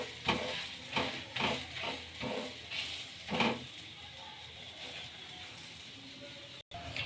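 Mint paratha sizzling in cooking oil on a pan, a steady fry hiss broken by several soft bursts of stirring or pressing sounds, close and moderately quiet, with no talk.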